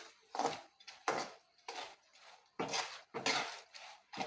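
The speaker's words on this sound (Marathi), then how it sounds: "मी मीठ घालू चवीनुसार हे मिक्स करून घेऊ" A spoon scrapes and clinks against a pan while salt is mixed into fried spices and lentils for a puffed rice chivda, making about eight close, distinct stirring strokes with short pauses between them and no talk.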